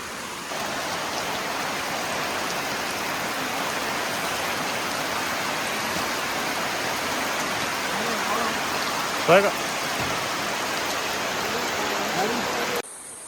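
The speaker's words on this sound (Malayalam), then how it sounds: "ഇവിടെ നല്ല മഴയാട്ടോ" Steady, heavy rain roars throughout as a dense, even wash of noise at a camp on the Sabarimala pilgrimage route, with a brief louder knock near the end.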